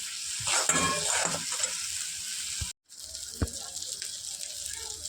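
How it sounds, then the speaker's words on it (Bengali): Spices sizzle and crackle in hot oil in a wok for baingan masala, close and steady, broken by a brief gap and a sharp scrape or clink. "দিয়ে মশলাটা ভালো করে কষতে হবে যতক্ষণ না তেল বেরিয়ে আসে কড়াই থেকে"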